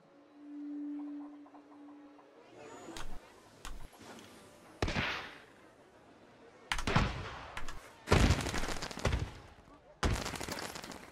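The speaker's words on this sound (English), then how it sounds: "There's the fireworks show going off." Fireworks show in the video game Planet Coaster, heard as a series of loud booming bursts and crackling volleys that come in separate clusters, with a quiet tone before the first launches.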